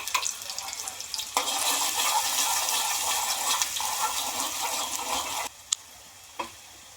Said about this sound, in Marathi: कांदा थोडासा लालसर होईपर्यंत फ्राय करून घ्यायचा.